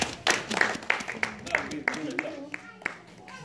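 A church congregation clapping together in praise of the Lord during a service, a run of sharp, evenly spaced claps in a steady rhythm mixed with singing and voices.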